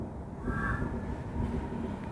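A train rolls past a station in a continuous low rumble with a brief higher squeal from the wheels near the start, moderately loud and fairly close, with no voices.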